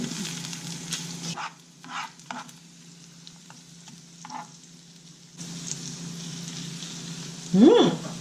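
A salmon steak fries in a hot buttered pan, a soft sizzle that falls away and returns in stirring bursts before a steady crackle resumes near the end, with no voices.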